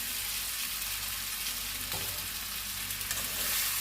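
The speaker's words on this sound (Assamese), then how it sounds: "মই ইয়াতে এতিয়া ফ্ৰাই কৰি থোৱা কঁঠাল আৰু আলুখিনি দি দিছোঁ।" Fried jackfruit and potatoes land in a hot pan with chilli powder and sizzle steadily, a dense close frying hiss with faint stirring scrapes throughout.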